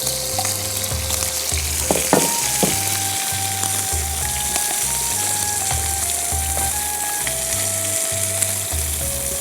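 Chicken sizzles skin side down in a hot pan, frying with a steady, loud crackle and spitting while a regular low pulsing music beat plays alongside.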